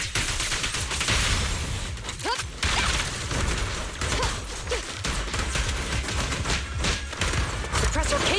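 A firefight in Zenless Zone Zero fills the scene with rapid, sustained gunfire, overlapping shots and mechanical clatter at a loud, steady level, with a few sharper impacts standing out and no talk.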